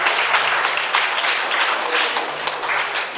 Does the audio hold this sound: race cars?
no